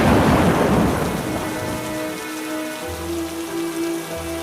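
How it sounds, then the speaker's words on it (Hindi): Heavy rain hisses steadily and a deep roll of thunder rumbles at the start, then fades into a soft, sustained downpour with faint tonal music underneath. "बिजली चमकने लगी। हर थोड़ी देर बाद एक नई कड़क, जैसे आसमान चीख रहा हो।"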